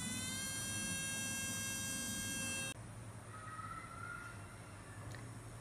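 A Belle rechargeable 35000 RPM nail drill runs with a thin high whine and steady hum, then the tone abruptly shifts lower halfway through as the rotation changes, no talk.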